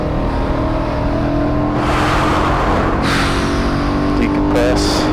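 A BMW E92 M3 laps Barber Motorsports Park, its engine droning steadily from inside the cabin while it accelerates, with occasional gear-change surges. Voices talk over it throughout.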